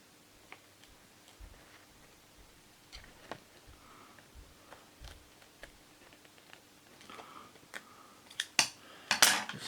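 Scissors snipping plastic while a broken PlayStation 1 CD case is repaired: sparse small clicks and ticks up close, building into a few sharper, louder cuts and cracks toward the end.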